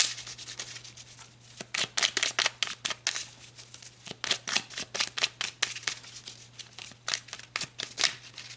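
Tarot cards being shuffled by hand, a close, soft series of riffling and rubbing bursts in an irregular rhythm, with no talking.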